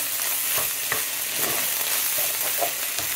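Soy sauce hissing and sizzling as it hits a hot wok beside fried rice, a steady close crackle with occasional stirring scrapes and pops, no voices.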